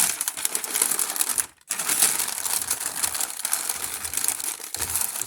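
Butcher paper crinkling and rustling as it is wrapped around smoked beef back ribs, a dense, loud papery crackle with one brief pause partway through, close up and with no talk.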